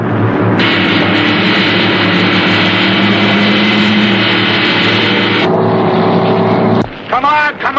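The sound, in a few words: 1957 Ford race car engine during qualifying run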